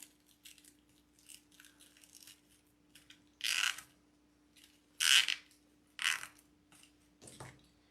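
Zip ties are pulled tight on a patriotic deco mesh rose wreath, heard as several short, sharp ratcheting zips spaced apart, close and fairly loud against a quiet background.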